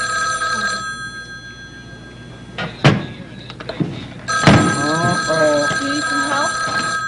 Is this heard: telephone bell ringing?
yes